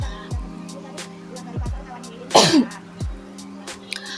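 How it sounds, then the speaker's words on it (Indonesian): A woman gives a single sharp cough, close and fairly loud, over a quiet background of repeated low tones. "aku rada-rada batuk-batuk gitu"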